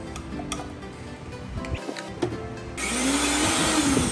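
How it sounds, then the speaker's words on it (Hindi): A loud, steady whirring of a mixer grinder crushing dates starts partway through and runs to the end, after some earlier clatter and ticking. "इस खजूर को मिक्सी में डाल के क्रश कर ले।"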